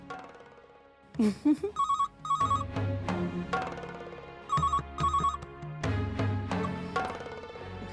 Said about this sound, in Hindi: मासा का फोन होगा।